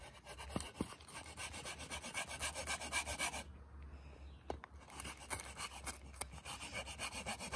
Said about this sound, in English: Take our saw out. And let's get sawing.